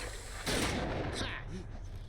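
A bombard weapon fires in Hades, a single heavy blast with a whooshing burst and rumbling tail, set against continuous game music and effects.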